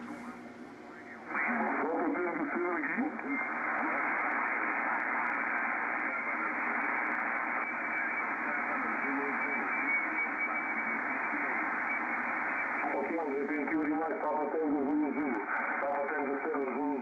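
Received audio from a Kenwood TS-2000 transceiver, repaired for low distorted audio, played through an external speaker: a steady band-limited hiss with a muffled voice running continuously underneath, starting abruptly after a brief quieter moment.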